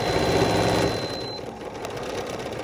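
A quilting sewing machine with a stitch regulator hums steadily up close while stitching, its motor running fast at first, then easing slightly lower.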